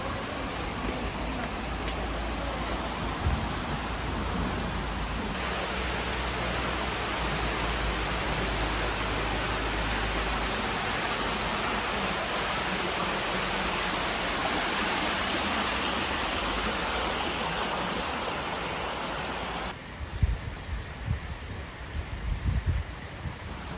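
A broad, constant rush of a river flowing in Atami, Shizuoka, fills the scene for a long stretch, then shifts to a quieter flow with a few nearby knocks.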